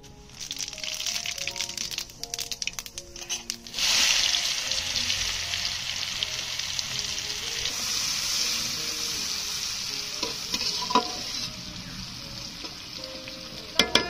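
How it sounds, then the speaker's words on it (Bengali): Steady hiss of cumin seeds frying in hot oil, starting quietly then swelling into a loud, continuous sizzle with faint crackles. "তেলের উপরে প্রথমে আমি জিরে দিয়ে দেব।"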